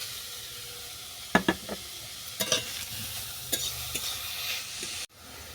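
Grated papaya fries in butter in a pan with a soft sizzle and a few close utensil scrapes and taps, then the sound cuts off sharply near the end.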